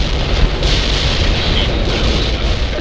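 An artillery barrage lands in the strategy game World in Conflict, heard as a loud, continuous rumble of explosions with repeated swells of heavy booming throughout.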